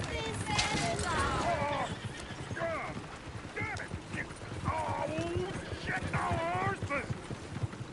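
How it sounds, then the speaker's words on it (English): Horses neigh and whinny repeatedly amid a busy outdoor scene, with hooves clip-clopping steadily underneath and people talking over the commotion. "Damn horses!"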